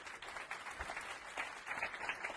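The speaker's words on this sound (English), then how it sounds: "Give her a round of applause" A seminar audience gives a round of applause, a dense, steady wash of clapping, moderately distant and fairly faint, lasting a couple of seconds.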